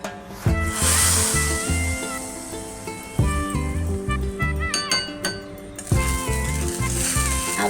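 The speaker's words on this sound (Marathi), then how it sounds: "आवाज आला ना फोडणीचा तडतड" Cumin seeds crackle in hot oil for a traditional jowar ambil and ragi pej tempering, bright clinking, spitting bursts that flare up and fade in repeated waves.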